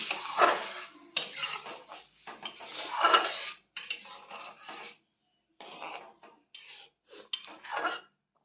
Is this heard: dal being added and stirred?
yes